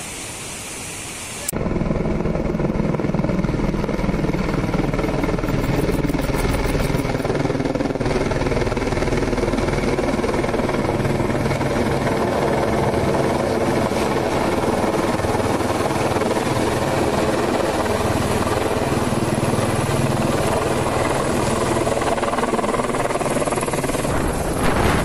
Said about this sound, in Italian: non può essere che usano un elicottero per trasportare la birra